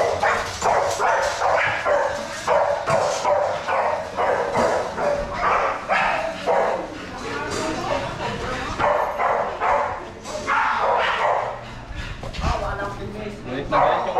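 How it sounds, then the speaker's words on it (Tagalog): A dog barks fiercely in rapid, repeated bursts, close and loud, with a few brief pauses. "Galit na galit yung aso."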